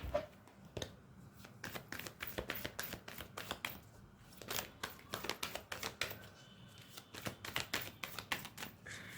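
Oracle cards are shuffled by hand in a rapid, continuous run of crisp flicking riffles and snaps, close by and without any talk.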